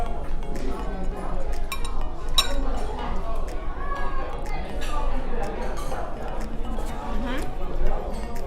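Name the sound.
glasses clinking in a toast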